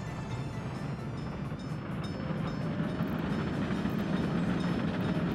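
Trains rolling along rails in the German-language colony-building game Workers & Resources, a steady, dense rumble with faint clattering that holds at a constant level throughout, with no voices.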